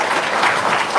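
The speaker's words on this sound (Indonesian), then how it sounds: "Tepuk tangan dulu dong, luar biasa." A quick, loud burst of dense audience clapping, heard up close at a gathering of guests giving testimonials.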